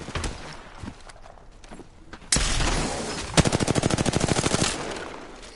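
Rapid bursts of video game gunfire, a loud sudden shot followed by a fast automatic rattle of evenly spaced rounds, loud and close, with no talking over it.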